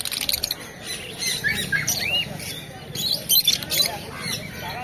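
Caged pet birds, including budgies, lovebirds and cockatiels, at the Naihati pet market give repeated sharp squawks and chirps. The calls are moderately close, and a faint murmur of market voices runs underneath.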